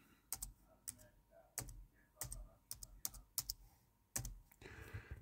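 Keys tap on a computer keyboard as a password is entered, a quiet, irregular series of a dozen or so close clicks with brief pauses between bursts.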